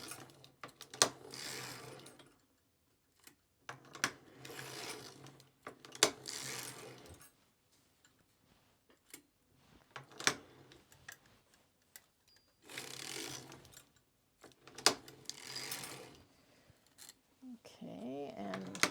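A hand-cranked sock knitting machine working on a crew sock, its clicking, whirring mechanism running in repeated bursts with pauses between passes, close and fairly quiet.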